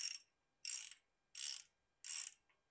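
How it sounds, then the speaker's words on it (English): Bottom bracket tool ratcheting the drive side cup tight on a bicycle, four crisp ratchet clicks-bursts in even rhythm about two-thirds of a second apart, close and quiet with silence between. "going to use the bottom bracket tool to get the final tightening of the drive side cup"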